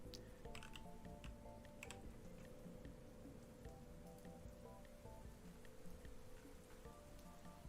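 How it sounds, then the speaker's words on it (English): Soft, steady rain pattering runs continuously under a quiet tune of sustained tones, forming part of the background music in a Minecraft FNAF mod; faint and even throughout, with no voices. "what's with the rain sounds? Because that's not normal."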